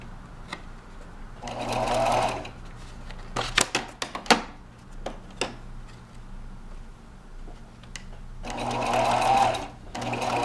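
A sewing machine stitches twine around the edge of handmade cards, two short whirring runs at either end with handling clicks and taps between, close and moderately loud.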